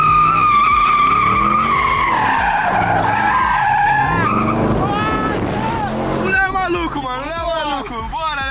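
Chevrolet Camaro drifting with tires skidding and squealing, a loud sustained screech with a revving engine, wavering in pitch as the car slides; voices shout excitedly over it.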